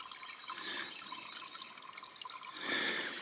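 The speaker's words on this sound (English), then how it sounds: "That sound is the water going out." Spring water flows out of a pipe in a steady, splashy trickle, moderately close and fairly soft, swelling slightly toward the end with no talking.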